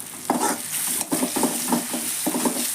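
A pea curry seasoned with garam masala fries in a pan, close up, with rhythmic stirring strokes scraping over a constant hissing sizzle.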